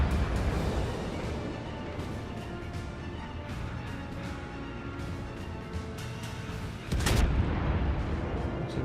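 A naval battle in World of Warships carries a steady, heavy rumble of ship engines and distant gunfire, then a sudden loud boom of a warship's guns firing near the end. No speech is heard.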